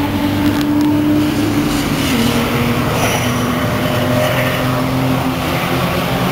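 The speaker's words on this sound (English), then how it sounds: "Lots of Porsches." Several Porsches and a Fiesta running on a race track in the Alps, a loud continuous engine drone and road roar close by with steady droning tones, no talk.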